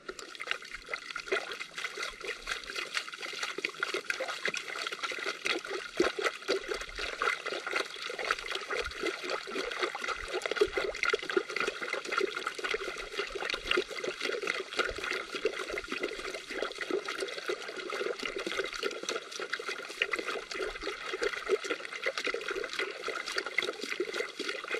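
Water runs steadily into a plastic Pyramid Pro Pan gold pan, a constant soft trickling, splashing stream that holds an even level for the whole stretch, with no talking.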